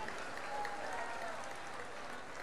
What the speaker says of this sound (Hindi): एक बार यहां के पत्रकारों के लिए ताली बजा के धन्यवाद दो।